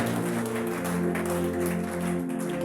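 A church congregation claps together in a steady wash of applause during a worship service, with music or sustained tones droning beneath the clapping throughout the short stretch.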